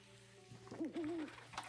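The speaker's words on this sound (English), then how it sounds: "There's the owl that we saw in the thumbnail." An owl character in a video game hoots in two short wavering calls, moderately close, over a faint steady background hum with no one talking.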